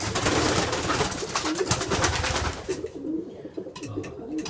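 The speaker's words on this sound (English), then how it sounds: "Some of these birds up here, the little fancy colored ones, those are chocolate bastins." Racing pigeons, including chocolate Bastin birds, coo repeatedly inside a loft, their soft throaty calls overlapping at close range before the flock noise thins out near the end.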